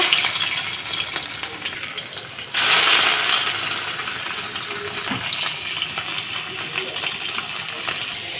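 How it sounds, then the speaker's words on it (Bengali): Hilsa fish pieces frying in hot oil, a steady broadband hiss that swells louder as the fish goes in and then settles into a continuous close sizzle. "এবার তেলটা গরম হয়ে গেছে, মাছগুলো ভেজে নেব"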